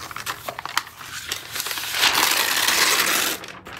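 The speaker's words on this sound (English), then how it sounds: "let's unwrap the M2 MacBook Air" A Midnight M2 MacBook Air is unwrapped from its packaging: close, brittle crinkling and rustling that starts in scattered crackles, then swells into a denser, louder tear that stops abruptly near the end.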